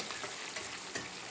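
Garlic and curry leaves sautéing in hot oil for a tomato thokku give a short, steady close-up sizzle with a few soft stirring scrapes.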